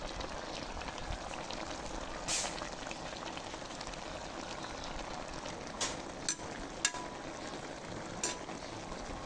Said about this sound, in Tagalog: Ihalo na natin yung malunggay.